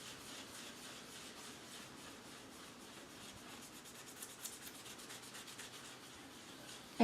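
Steady, soft rubbing scrapes across a foil tape sheet carrying an alcohol ink print, a continuous close scratchy friction lasting several seconds, faint and even.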